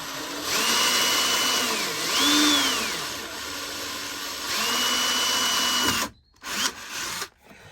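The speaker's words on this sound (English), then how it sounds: "Time to drill this first hole at the top." A power drill bores a hole through a caravan table in a Bailey Autograph 79, a loud whining motor that sweeps up and down in pitch as it bites into the wood, then stops abruptly, with a brief burst afterward.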